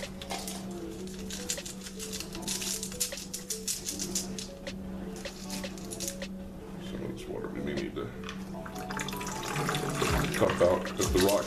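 Water poured from a cup splashes and patters over tumbled rocks in a bucket during rock-tumbler cleaning, a steady close trickle with rattling stones, and a person talking over it.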